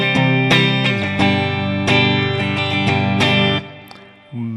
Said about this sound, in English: A nice twin reverb model.